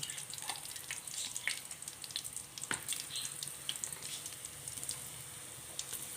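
Soya chunks coated in masala fry in hot oil, a steady close hiss and sizzle with small crackling pops throughout and no talking.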